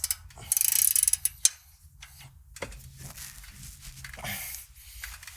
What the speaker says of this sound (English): then we're going to go ahead and tighten the castle nut to the spindle.